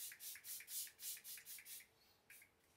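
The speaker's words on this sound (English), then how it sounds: "so I just spray it over my face like this" Facial mist sprayed onto the face during an evening skincare routine: eight quick, soft hissing spritzes in a steady rhythm, close and quiet, then a short pause and one more spritz, with no talking.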